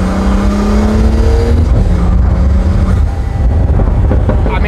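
A sports car with a single-clutch transmission accelerates hard, its loud engine roaring close by with sharp pops and crackles layered over the steady drone.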